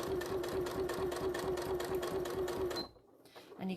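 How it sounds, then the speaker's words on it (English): A sewing machine fitted with a zipper foot runs a steady, fast rhythmic stitch up close with light grey thread, then stops abruptly near the end, leaving a short quiet tail. "just got my zipper foot on, see if that works, and I'm just going to stitch that line"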